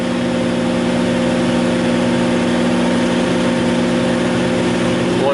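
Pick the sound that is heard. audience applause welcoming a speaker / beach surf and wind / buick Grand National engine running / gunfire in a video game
buick Grand National engine running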